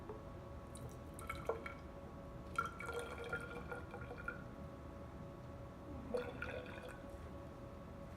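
Hydrogen peroxide being measured out in a lab, with a few quiet drips and small liquid splashes into a measuring container, spaced irregularly against a faint room hiss.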